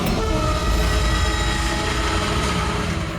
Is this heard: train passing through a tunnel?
yes